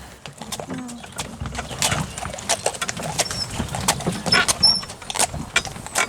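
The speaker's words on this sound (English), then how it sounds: "She loves trotting along with the gig behind her" A horse pulling a gig trots along with a rapid, even clip-clop of hooves, accompanied by rattling and light creaks, close and constant throughout, with faint birdsong in the background.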